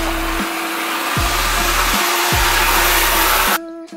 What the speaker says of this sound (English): the vacuum itself is doing exactly what it should do